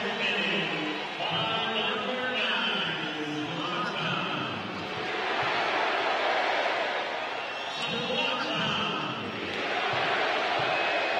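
Stadium crowd noise at a Major League Soccer match between LA Galaxy and Columbus Crew, a steady broad roar with swelling cheers and some chanting, loud and continuous throughout.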